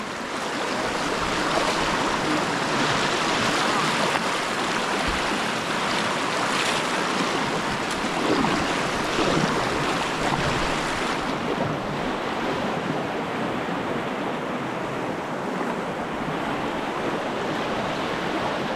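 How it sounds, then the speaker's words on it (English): The Hiwassee River rushing over bedrock, a steady loud broadband roar of flowing water with wind buffeting the microphone, continuous and unbroken. "You can just sit there and watch the water come over the bedrock."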